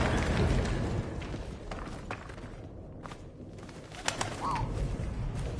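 Pigeon cooing in the game Memories Retold, soft bird calls over a rustling ambient bed with faint footstep-like shuffles, no speech.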